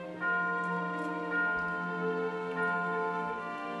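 Morning church bells from the third act of Puccini's opera Tosca, modelled on the great bell of the Vatican: sustained, ringing tones with several strikes that layer into a rich, lingering chord.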